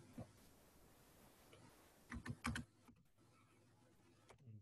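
The word "recent" is typed on a computer keyboard into the Windows Run box, a quick burst of faint key clicks clustered together, with a couple of isolated taps before and after in a quiet room.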